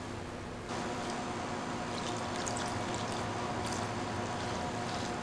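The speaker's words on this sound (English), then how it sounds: "So we're going to add a little bit of water." Water poured into egg keema in a pan, a continuous splashing pour that starts abruptly and runs steadily, close and fairly loud.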